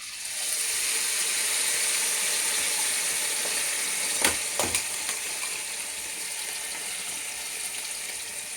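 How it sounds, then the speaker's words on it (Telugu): Chicken pieces frying for pickle in hot oil over a medium flame, giving a loud, steady broadband sizzle with a few sharp clicks midway, no voices. "నూనె కాగింది కదా, చికెన్ ఇప్పుడు వేసుకుంటున్నానండి."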